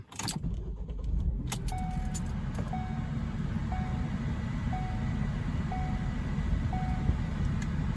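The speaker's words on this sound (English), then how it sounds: "go ahead and start the car up" Ford Focus engine cranking and catching, then idling with a steady low hum while a regular electronic warning chime repeats about once a second, close inside the car.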